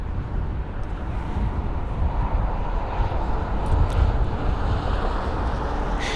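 A British Airways Airbus A350 on its delivery flight lands at London Heathrow, its jet roar a broad, steady rumble with wind buffeting throughout and no voices.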